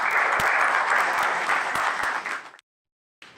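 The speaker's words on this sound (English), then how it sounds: "Give yourself a hand." A community audience breaks into loud, dense applause at a closing presentation, steady clapping for about two and a half seconds before it cuts off abruptly, leaving a short silence and then a faint return of sound.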